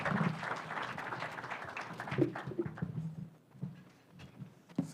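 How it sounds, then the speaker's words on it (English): An audience at a development partnership forum in Nairobi applauds the Deputy President, a dense burst of clapping that gradually thins and fades over a few seconds. "Kindly let us give him a round of applause."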